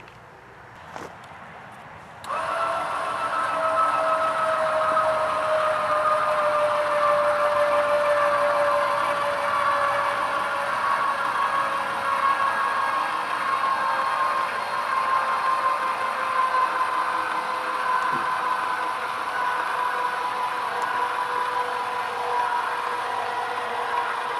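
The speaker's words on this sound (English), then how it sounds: "we're going to crank this up and see if it'll lift it up" A Buyers 3,500 lb 12 volt electric trailer jack starts with a sudden whir and then runs steadily as its motor lifts a trailer, a continuous droning hum with a pitch that slowly sinks under load.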